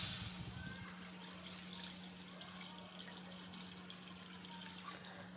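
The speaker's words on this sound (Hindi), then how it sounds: "एक पैन लेंगे, इसमें शामिल करेंगे दूध" Liquid streams and trickles steadily as milk is poured into a pan for sheer khurma, a soft continuous flow under a low hum, no voices.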